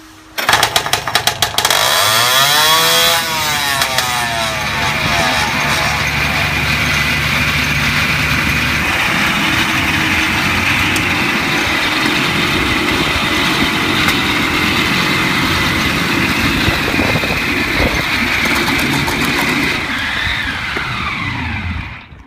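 A custom-built 48-cylinder motorcycle with six inline eight-cylinder banks roars loudly and steadily, a dense rasping drone after a sharp revving rise at the start, running continuously with no voices.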